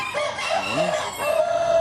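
A cemani bekisar cross rooster crows nearby, a clear rising and falling call with some clucking-like tones under it, loud and free of talk.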